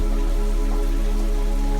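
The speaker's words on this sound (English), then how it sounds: "The sound of the rain gently brought him out of sleep." Rain falls steadily over a city, a continuous even patter with no voices, backed by a soft sustained tonal hum.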